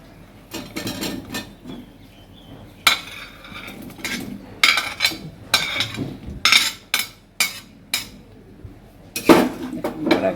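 Fish roe fritters dropped into simmering curry in a pan for a Bengali fish egg curry, giving a series of clinks and clatters of utensil against cookware, some sharp and close, scattered irregularly through the stretch with no talk.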